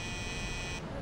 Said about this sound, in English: With what? The buzzer.